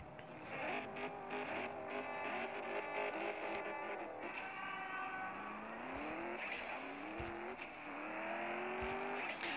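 A Mercedes-AMG launches and races in the mobile drag-racing game CSR 2, its engine revving up through several rising gear sweeps with brief shift drops, loud and continuous.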